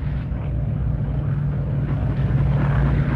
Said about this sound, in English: A moment ago, we heard the engines of heavy aircraft, and now, flying low to drop their supplies